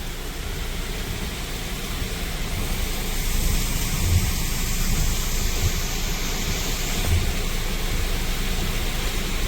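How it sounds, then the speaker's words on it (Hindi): Heavy rain pouring outside in Ho Chi Minh City, a loud, steady broadband roar with no breaks, heard from a short distance with no voices. "ये देखिए बारिश कितनी तेज़ है यहाँ।"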